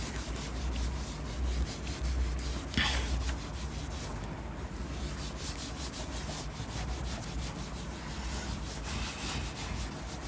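A duster rubs writing off a board in a maths classroom, giving a steady, continuous scrubbing rasp for about ten seconds with no talk over it.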